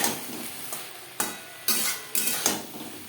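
Eggplant with salt, turmeric and red chili powder is stirred in a pan, with a soft frying sizzle beneath. Five or six distinct scraping strokes of the utensil against the pan come at an uneven rhythm, fairly close.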